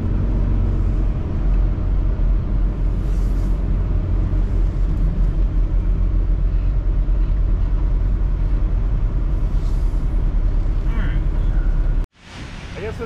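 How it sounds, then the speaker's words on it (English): Steady low rumble of a semi truck idling and creeping while sliding the tandem under its 53-foot trailer, loud and continuous, ending with a sudden thud and hiss near the end; a voice is faintly present. "So we're gonna come over here out of the way, do a little trailer sliding, get back over for a reway."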